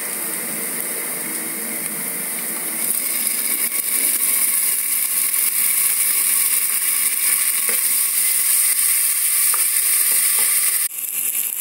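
Ginger-garlic paste and chopped tomato fry in a pan for instant noodles, a loud, close sizzle that swells after a few seconds and keeps crackling steadily, with a sharp clatter near the end.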